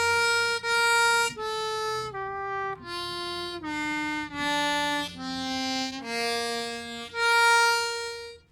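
A harmonica in first position plays a major scale up through its first octave, using bent draw notes. There are about ten separate, clearly articulated notes that climb in pitch one after another, played alone.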